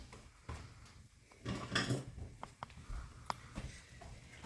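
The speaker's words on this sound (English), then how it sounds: "let me stir up the beans" Beans stirred in a pot for chicken tacos, with a few sharp clinks and scraping knocks of a spoon against the pot over a quiet kitchen background, no talking.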